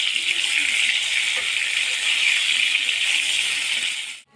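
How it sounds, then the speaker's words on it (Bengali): Eggplant slices fry in hot oil in a wok with a loud, steady sizzle that carries on without a break, then cuts off abruptly at the end. "এবার বেগুনগুলো আমি ভেজে নেব, দিয়ে হালকা লাল করে আমি ভেজে নেব বেগুনটাকে।"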